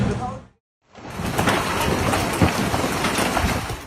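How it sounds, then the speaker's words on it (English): An extreme storm hits Arkansas with hail and heavy rain, a dense, loud clatter of drops and ice pelting hard surfaces. It resumes after a brief silent cut, with sharper impacts standing out from the roar. "Arkansas was hit by an extreme storm, leaving cars dented, glass shattered, and hail piled high in the streets."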